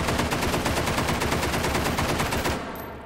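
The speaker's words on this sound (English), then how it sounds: "This is so fun shooting one-handed" Fast automatic gunfire in the VR shooter Hot Dogs, Horseshoes & Hand Grenades, a long, evenly spaced stream of loud shots that stops abruptly near the end.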